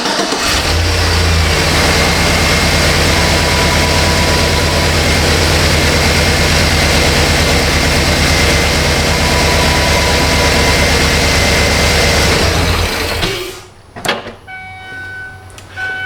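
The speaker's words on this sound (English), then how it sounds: "me fire it up" A Chevy Silverado truck engine running, a loud steady rumble that holds for about thirteen seconds and then cuts off, followed by clicks and faint electronic tones.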